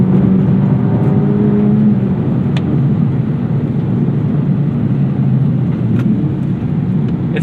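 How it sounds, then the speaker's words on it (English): A 2024 Acura Integra Type S engine fitted with an aftermarket exhaust runs steadily, with a fairly soft, low drone and no sharp revs. The sound is continuous and moderately loud throughout. "It's still a pretty soft, you know, not too loud of an engine, even with this exhaust."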